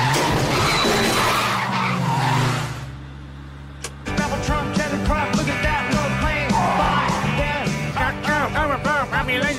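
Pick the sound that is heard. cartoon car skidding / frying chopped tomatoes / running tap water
cartoon car skidding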